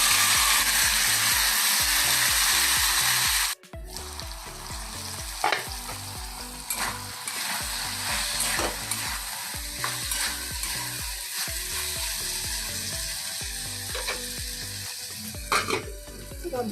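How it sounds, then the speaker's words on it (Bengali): Loud, steady sizzling of okra frying in hot oil in a kadhai begins after a brief pause, with scraping and stirring sounds throughout. "এবার আমি ঘিন্ডিটা তেলের মধ্যে দিয়ে দেবো"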